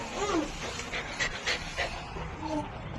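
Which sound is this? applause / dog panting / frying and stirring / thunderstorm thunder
dog panting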